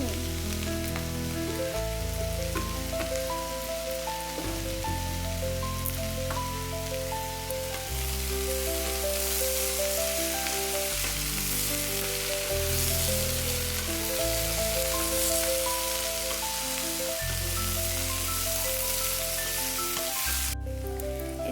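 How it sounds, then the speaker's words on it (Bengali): Carrots sizzle and fry in a pan with a steady, even hiss that runs throughout, partly masked by louder background music. "গাজরটা আমার ভাজা হয়ে গেছে এবার বাটিতে ঢেলে নেব"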